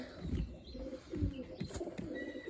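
Low, soft pigeon cooing repeats nearby, with faint chirps and rustling in the background.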